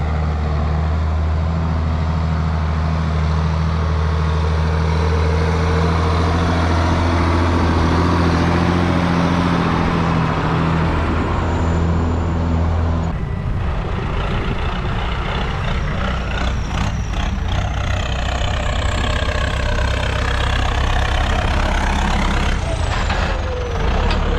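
Renault tractor engines idle on a Kashubian farm during manure work, a loud low rumbling drone that carries for about half the time, then gives way to rougher mechanical clatter.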